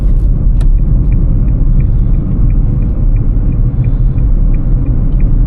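A car drives through city traffic during a driving lesson, its engine a loud, steady low rumble from inside the cabin, with a faint regular ticking that sounds like an indicator and no speech.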